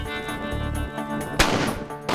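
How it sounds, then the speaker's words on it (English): A rifle shot with a bullet striking a block of C4 explosive that fails to detonate, heard as one sharp loud crack partway through against a steady noisy background, with no blast following. "Once again, the bullet impacts the C4, but Nothing."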